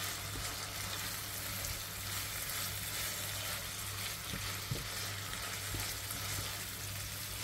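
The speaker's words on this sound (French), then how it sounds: "j'ai mis donc le cube, les épices, le curcuma et je fais cuire un petit peu." Stock cube, spices and turmeric cook in a pan as a base for gluten-free veal and squash lasagne, giving a steady, even frying sizzle throughout with no voices.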